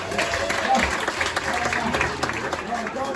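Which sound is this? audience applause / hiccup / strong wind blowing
audience applause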